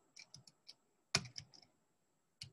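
Typing on a computer keyboard: short bursts of crisp key clicks, a quiet pause, then a sharper flurry of keystrokes and a final lone tap, close and clear with no talking.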